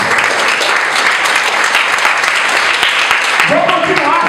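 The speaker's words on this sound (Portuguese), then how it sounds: "dá uma grande salva de palmas" A church congregation at a Lord's Supper service gives a big round of applause, loud and continuous throughout, with a sustained tone rising beneath it near the end.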